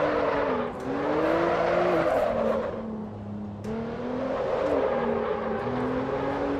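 A Lotus Evora GTE Carbon race car engine in Assetto Corsa on a hillclimb, a loud, close, steady drone that climbs through the revs with short drops at each gear change and a hint of tire noise.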